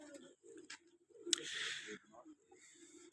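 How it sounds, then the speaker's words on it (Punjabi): A pigeon coos in soft, low, repeated throaty phrases, close by, broken by a short burst of rustling or wing flutter in the middle. "ਇਹ ਆ ਕਬੂਤਰ ਜੀ, ਆ ਦੇਖੋ।"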